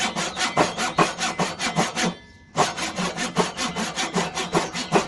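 A hand saw cuts along a marked line in wood for a dovetail joint on a cabinet, in steady, rhythmic back-and-forth strokes, pausing briefly before resuming at the same brisk pace.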